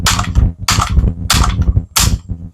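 Umarex APX airgun firing at tiny targets: four sharp, loud shots spaced about two-thirds of a second apart, each a crisp crack with a short ringing tail, heard alone without talk.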